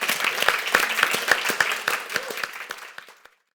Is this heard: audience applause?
yes